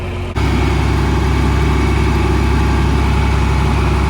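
A John Deere 4320 tractor engine rumbles loud and close, starting abruptly and then running as a steady, deep idle with no voices.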